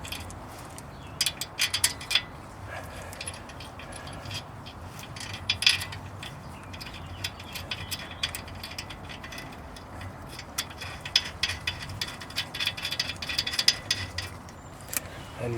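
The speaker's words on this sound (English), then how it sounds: "I'm going to tighten up this bolt, and it's going to push the disc out." A wrench ratchets in short bursts of clicks while tightening a bolt against the brake disc of a 2010 UK-spec Mazda 3, quiet and close with small metallic clinks between strokes.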